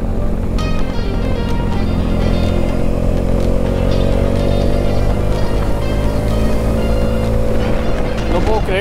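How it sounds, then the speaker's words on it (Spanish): A motorcycle engine roars past at close range on a race circuit, its pitch shifting as it goes by, over a steady loud engine drone. "Miren eso, una moto."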